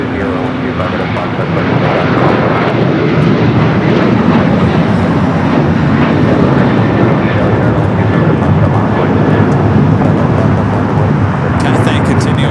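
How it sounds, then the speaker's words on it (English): A United Boeing 737 jet rolls down runway 25 right at LAX, giving a loud, steady, broadband engine roar that holds throughout, with a faint hiss on top. "United 737 rolling down to 25 right."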